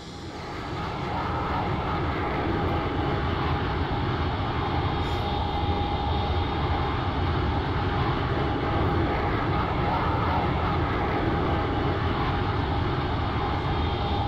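A Boeing 757 with Rolls-Royce engines landing in the X-Plane 11 flight simulator, heard as a loud, steady broadband engine roar that swells in over the first second and then holds constant.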